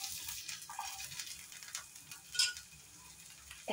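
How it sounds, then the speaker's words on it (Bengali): Ginger pieces frying in a pan, a soft continuous sizzle with light stirring scrapes and a brief clink of a utensil, fairly quiet and with no talking. "এখন আদাটা আমি কালার আসা পর্যন্ত ভেজে নেব।"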